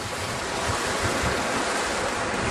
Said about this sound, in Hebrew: זאת הנביאה של מעיין עין מפעם שנשפך בנחל בית העמק